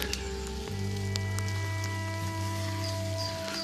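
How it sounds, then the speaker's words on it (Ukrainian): Rain falls steadily over the village of Vilkha, a soft, even wash of patter around a wet, slippery spot near an old water-wheel site. A low steady hum and some tonal lines run under it, and no one speaks. "Сьогодні дощ йде цілий день, слизько"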